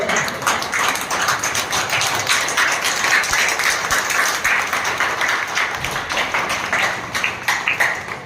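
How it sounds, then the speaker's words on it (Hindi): An audience claps steadily and fairly loudly at a women empowerment question-and-answer event, with many hands forming a continuous, busy patter that lasts several seconds. "ढोलक ताली मारो."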